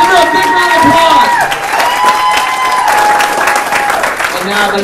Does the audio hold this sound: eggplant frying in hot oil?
no